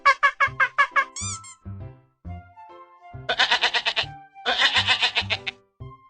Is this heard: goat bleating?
yes